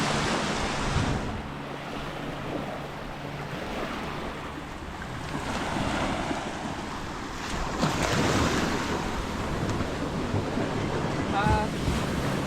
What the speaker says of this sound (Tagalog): Ngayon po ay high tide, kaya kung makikita po ninyo ay dumadaloy na dito yung tubig.